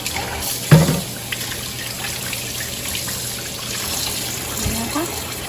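Rice being rinsed by hand in water for a Thai sour curry with pickled bamboo shoots and fish: running, sloshing water, with a sharp clatter near the start and a voice faintly in the background.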